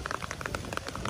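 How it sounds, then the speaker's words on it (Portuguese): Rain falling on a town street in Extrema, Minas Gerais, makes a dense, steady patter of close drops with no one speaking. "Olha a chuva, que delícia."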